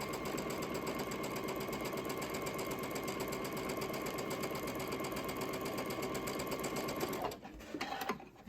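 A sewing machine runs steadily, stitching a seam on an Ohio Star quilt block of quarter-square triangles, with a fast, even mechanical whir for about seven seconds before stopping abruptly.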